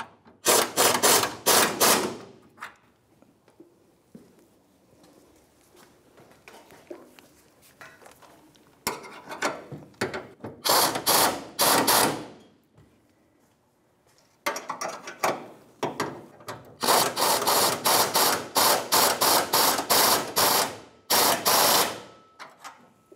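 A ratchet tightens the fuel tank strap bolts on a 1992-1996 Ford F-150, sounding as close, rapid clicking bursts of a few seconds each, separated by short pauses and quieter handling noises.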